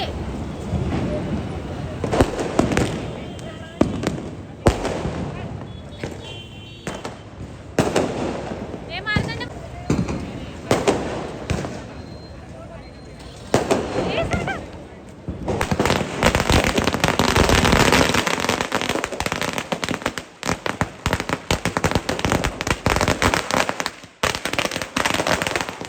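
Diwali firecrackers bursting outdoors in a village street, a rapid string of sharp cracks and bangs that swells into a dense, continuous crackling barrage near the end, with people talking over the noise.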